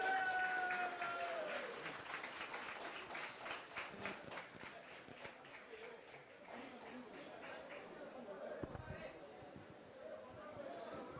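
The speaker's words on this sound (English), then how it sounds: "Can we all give a huge round of applause?" Crowd applause at an outdoor public political rally in Goa, a broad sustained clatter of many hands clapping with voices and a brief tone at the start, gradually thinning out.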